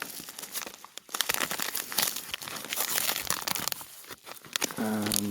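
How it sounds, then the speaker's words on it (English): A package received in the mail is torn open straight down, with sharp crinkling and ripping bursts of paper or plastic, loud and close, in short irregular tugs followed by a brief hum at the end. "Got a package here that I received a couple of weeks ago. Just going to rip straight down it."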